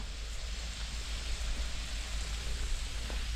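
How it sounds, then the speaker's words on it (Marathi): Steady rain falling, a dense even hiss with a low rumble underneath, continuous and unbroken with no voices. "मस्त कसं पाऊस पडू राहिला"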